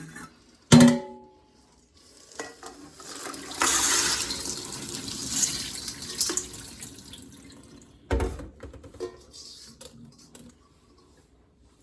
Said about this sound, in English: I'm just going to give them one more rinse.